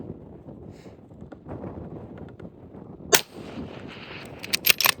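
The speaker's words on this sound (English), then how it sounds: "let's send one in the hole" A rifle fires at a long-range target with a sharp, loud crack standing out from wind noise, followed by further sharp transients later.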